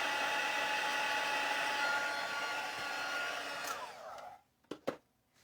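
A heat tool blows hot air over a stamped paper card with a loud, steady whirring rush that winds down as it is switched off, followed by a couple of soft knocks.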